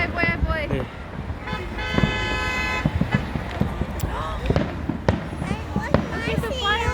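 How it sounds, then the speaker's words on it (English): Fireworks at a July 4th show go off as crackling bursts and booms mixed with car horn toots from nearby street traffic, heard at a distance under steady crowd noise and voices. "Look at the fireworks."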